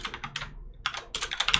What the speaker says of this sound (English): that's what I'm typing here